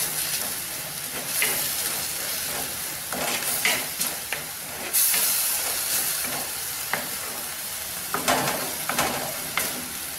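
Mushrooms with mint sauté in a pan for a mushroom soup, giving a continuous hissing sizzle broken by repeated scraping stirs and light clicks, close and moderately loud.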